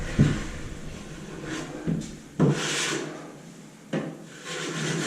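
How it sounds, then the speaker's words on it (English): Plaster being scraped off a boarded ceiling, with several sharp rasping strokes of the blade and a few louder scrapes, heard up close with no talking. "you will put plaster on, but you will of course take it off again, as we're doing here."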